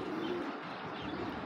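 Racing pigeons, including a grizzle hen, coo softly and continuously in a loft, a low murmuring rumble with faint chirps layered over steady background noise, no talking.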